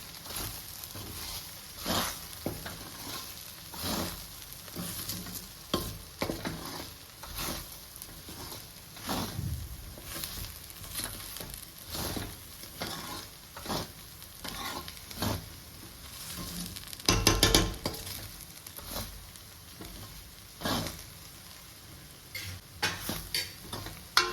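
Okra sizzles in a pan on a gas flame while turmeric and coriander powder are stirred in, with a steady frying hiss broken by repeated scraping and tapping of the spoon, close up and without talking.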